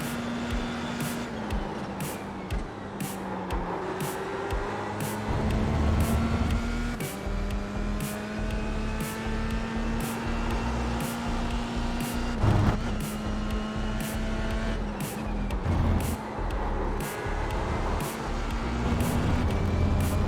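A Dallara Formula 3 race car in the iRacing simulator, its engine screaming at high revs close up, pitch climbing and dropping through repeated gear shifts, loud and continuous for twenty seconds with no talking.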